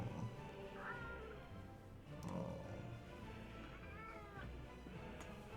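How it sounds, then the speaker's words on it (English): A cat meows several times in the video game Workers and Resources, short rising cries spaced a second or two apart, heard faintly over a low background hum. "Meow."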